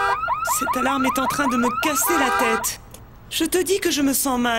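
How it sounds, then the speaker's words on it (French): Car alarm blaring in a repeating whooping, chirping pattern, loud and close, as someone speaks over it in French. "Cette alarme est en train de me casser la tête."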